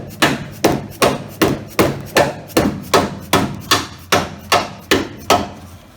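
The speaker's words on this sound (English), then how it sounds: "hammer it in" Repeated sharp metal hammer blows driving a tool into a front suspension bushing on a small-body AMC car, about a dozen evenly spaced strikes in a steady rhythm, close and loud, with no talking.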